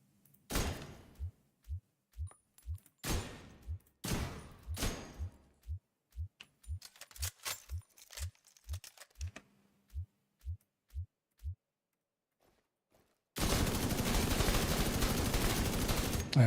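Gunfire in a video game while shooting for headshots, a steady series of sharp, evenly spaced shots, some in quicker clusters, ending with a loud burst of continuous noise.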